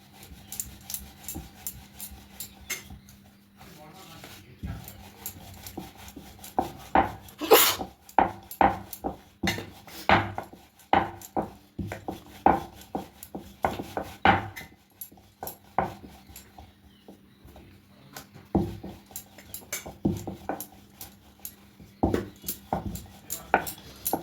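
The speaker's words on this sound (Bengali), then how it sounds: "এক একটা লেচি নেব এর উপর দিয়ে একটু ময়দা ছড়িয়ে দেব দিয়ে রুটির মতো করে বড় করে বেলে নেবো" A rolling pin works flour-dusted dough balls for lachha paratha on a board, making a long series of sharp knocks and clatters in irregular bursts, close by, with brief pauses between strokes.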